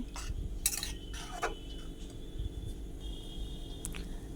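Boiled peas and potatoes for ghugni stirred in a pan, with repeated metal spoon clinks and scrapes against the pan and soft squishy mashing in between, close and moderately loud.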